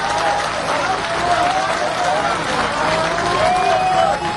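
Crowd at a street carnival gathering in Port-au-Prince applauding steadily, a dense, continuous wash of clapping and crowd noise with voices mixed in throughout.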